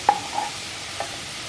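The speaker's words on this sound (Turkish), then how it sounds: "İki çorba kaşığı unumu da ekledim. Bu şekilde kavuracağım." Two tablespoons of flour roasting in a pan for mushroom soup: a soft, steady sizzle with a few light scrapes of a spoon stirring, close and fairly quiet.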